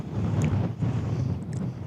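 Wind buffets the microphone during a bicycle trip in northern Norway. A steady low rumble of gusts runs throughout the short stretch, with faint brief higher sounds on top.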